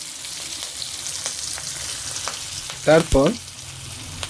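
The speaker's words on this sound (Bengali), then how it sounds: "গরম তেলে কালো জিরা, কাঁচা লঙ্কা, হলুদ, লবণ স্বাদমতো দিয়ে কিছুক্ষণ ভেজে নেব।" Black cumin seeds, green chili and turmeric frying in hot oil for a hilsa fish curry, giving a soft continuous sizzle with occasional light clicks, and a voice briefly speaks near the end.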